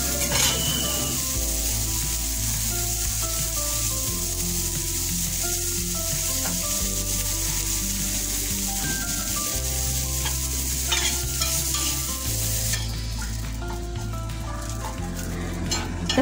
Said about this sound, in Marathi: आता थोडे जिरे जे घेतले आहेत जिरेसुद्धा भाजून घेऊया